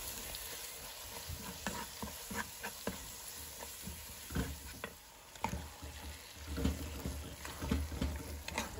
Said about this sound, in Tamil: அது வரைக்கும் கொஞ்சம் அது ஃப்ரை ஆகட்டும்.